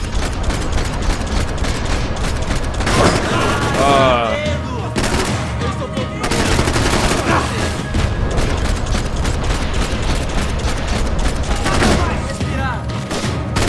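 Gunfire rattles through a Max Payne 3 firefight, loud bursts of automatic shots and heavy impacts running almost continuously, with brief lulls and a voice talking underneath.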